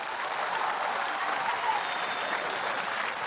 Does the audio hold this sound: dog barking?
no